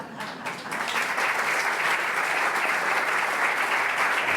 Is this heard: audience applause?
yes